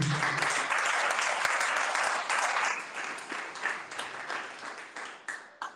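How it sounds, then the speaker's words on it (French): A church congregation applauds loudly during a worship service, a dense patter of many hands that gradually thins and fades toward the end. "On peut applaudir pour Jésus."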